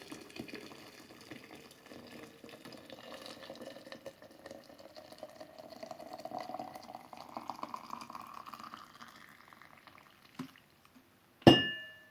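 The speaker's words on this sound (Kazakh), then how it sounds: "Екіншісіне де қайнап тұрған су құямын." Boiling water is poured into a jar holding apricot, apple, orange, lemon and sugar for a homemade compote, a soft steady stream rising in pitch as it fills, ending with a sharp glass clink.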